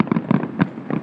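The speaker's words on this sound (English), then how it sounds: "What is that? Fireworks?" Several short, muffled pops and bangs from fireworks exploding come in quick irregular bursts over about a second. They sound moderately distant.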